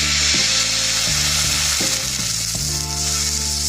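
Loud, steady sizzling of cashew nut dosa batter frying on a hot tava griddle, with occasional scraping and shifting sounds, no talking.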